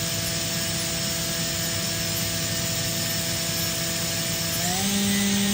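A 2011 Makino F5 machining centre spindle at 10,000 RPM produces a loud, steady whine with clear tonal lines and broad mechanical hiss, and the pitch rises sharply near the end as the spindle speeds up.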